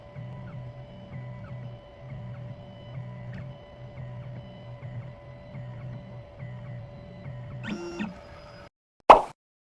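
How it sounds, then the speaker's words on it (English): A 2M2 Tank CNC key machine whirs and ticks steadily while decoding a Baojun car key, with a rhythmic low pulsing under a constant tone, a brief rising squeal near the end, then a sharp click. "The machine is decoding the key."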